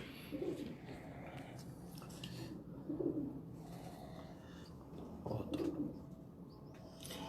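Pigeons coo in three soft, low bursts from a Faisalabad rooftop loft, faint against a quiet background.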